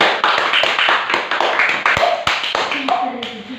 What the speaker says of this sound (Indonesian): tepuk tangan buat Mas Fairuz